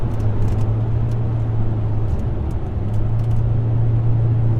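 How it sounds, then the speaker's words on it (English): Supercharged 500 hp Pontiac G8 Firehawk with SLP headers, X-pipe and cats, its exhaust a steady low drone from inside the moving car alongside road noise, with a brief dip in the middle. "that exhaust note is just a perfect tone"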